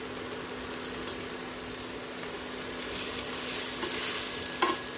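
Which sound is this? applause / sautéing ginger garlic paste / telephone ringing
sautéing ginger garlic paste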